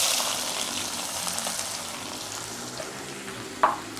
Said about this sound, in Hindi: सबसे पहले जो है कुकिंग ऑयल मैंने गरम कर लिया है। अब इसमें मैं प्याज डाल दूँगी।